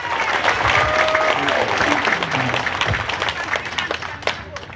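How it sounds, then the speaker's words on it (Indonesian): Audience at a thanksgiving and declaration gathering for a Nabire political campaign clapping together in steady, moderately distant applause, with some crowd voices underneath. "Tepuk tangan serentak."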